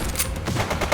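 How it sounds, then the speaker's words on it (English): Rapid bursts of gunfire in The Precinct video game, a dense, steady rattle of shots that runs throughout a brief moment. "He's shooting!"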